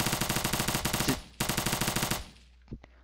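Rapid automatic gunfire in the blocky zombie shooter Zombi Blocks, two fast bursts of close, loud shots separated by a short pause, then a couple of faint clicks as it stops.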